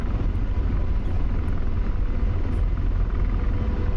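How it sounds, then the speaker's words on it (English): An AH-64 Apache helicopter's steady, droning rotor rumble in the flight simulator DCS fills the whole stretch, constant and close with no voices. "try giving a helicopter a backflip"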